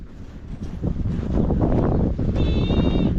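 Goats on a farm bleat near the microphone, with a clear wavering cry near the end over wind buffeting and rustling noise.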